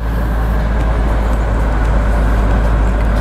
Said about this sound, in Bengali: আপনি এসির শব্দটা শুনতে পাচ্ছেন।